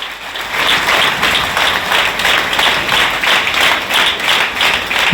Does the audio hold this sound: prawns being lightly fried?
no